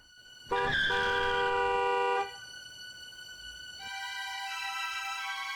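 A car in the video game Mistrick blasts a sustained, loud horn for under two seconds, then a second, higher horn tone rises and holds over a faint engine hum.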